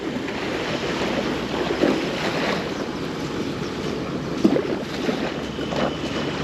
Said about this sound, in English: Sound of water as the boat is moving across.